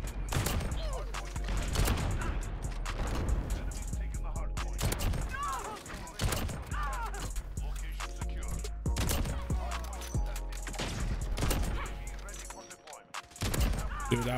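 Rapid sniper rifle gunshots in Modern Warfare ring out in sharp, dense bursts over continuous game action, loud and close, with other gunfire and mechanical clatter filling the gaps.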